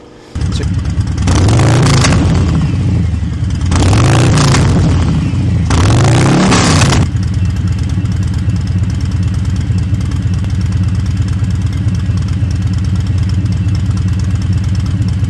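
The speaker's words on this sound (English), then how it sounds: "what this 2-into-1 TBR exhaust pipe sounds like" A Harley-Davidson Low Rider ST with a TBR 2-into-1 exhaust starts up close by, then revs hard three times with deep, throaty exhaust blips before settling into a loud, lumpy idle.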